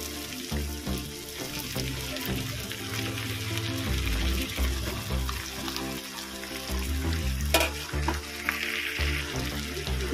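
Chicken pieces fry with spices in a pan for a Bengali chicken and potato curry, giving a continuous bubbling sizzle that runs beneath steady background music.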